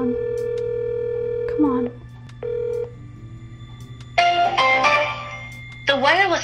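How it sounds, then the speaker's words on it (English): A phone call rings out while the caller waits for an answer: repeated electronic ring tones in separate bursts, with a steady line hum beneath and a voice speaking briefly between the rings. "Pick up the phone."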